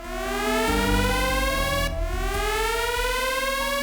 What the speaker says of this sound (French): Une sirène stridente déchire l'air.